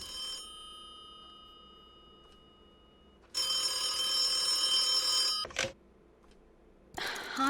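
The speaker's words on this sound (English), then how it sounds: "Harvey Miller, do you ever answer your phone?" Telephone ringing in the video game The Occupation, a loud bright electronic ring in a long burst, a shorter second burst after a pause, and a third starting at the end, no speech.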